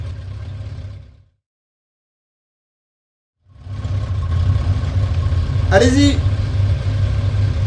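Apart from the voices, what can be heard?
motorcycle engine riding for a chase-scene shot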